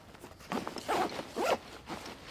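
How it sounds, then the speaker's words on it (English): Zipper on an Exo Mtn Gear backpack compartment being drawn closed in a few quick, rasping pulls, close and fairly loud, with no talking. "So we're going to zip that back up."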